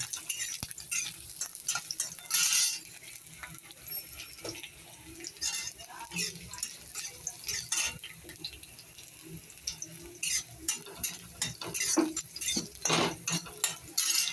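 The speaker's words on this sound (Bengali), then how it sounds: "রসুনগুলো লাল লাল করে ভাজা হয়ে গেলে কালো জিরেটা দিয়ে দেবো" Garlic frying in oil in a karai after dried chillies, a steady close sizzle with crackling bursts and occasional stirring clinks throughout.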